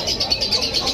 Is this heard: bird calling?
yes